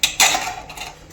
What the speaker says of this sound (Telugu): దీన్ని మూతేద్దాం.